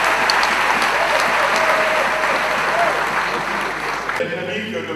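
Sustained applause from an audience at a political opposition rally, dense and steady for about four seconds before cutting off abruptly into a quieter room.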